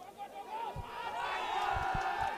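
Crowd noise from Nepali cricket fans at the Oman Cricket Academy during a Nepal vs UAE semi-final, a distant swelling roar with scattered shouts and a few thuds.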